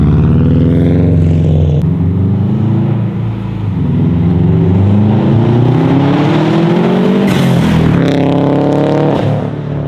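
A Hawkeye-generation Subaru STI with a newly fitted blow off valve revs loudly from outside, engine pitch rising through gears, with a short bright hiss bursting out after a lift near the end.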